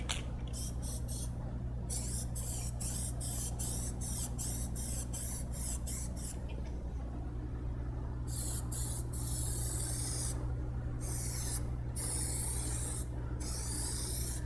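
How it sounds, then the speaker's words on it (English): Spray paint hisses steadily as a second coat goes onto a car's rings and front grille, broken into repeated bursts with brief pauses, close and loud. "make sure you spray on the car outside of the edge"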